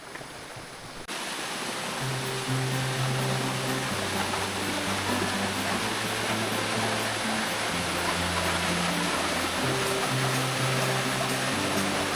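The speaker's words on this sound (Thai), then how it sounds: "ถึงน้ำตกตาดหมอกแล้วนะครับ สวยมากเลย" Tad Mok waterfall in Phetchabun, Thailand: a dense, loud, constant roar of falling water that swells in after a second and holds steady, with a faint tonal hum underneath.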